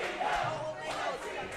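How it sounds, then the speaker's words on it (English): A wrestling crowd at an unsanctioned match cheers and chants in a loud, sustained roar of many voices swelling in waves. "These crowds showing their respect for what these two have put themselves through."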